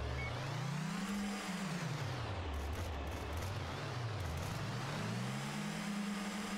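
A race car engine in the racing game Barro drones continuously as it laps the circuit, pitch rising and falling with gear shifts and acceleration, loud and steady throughout.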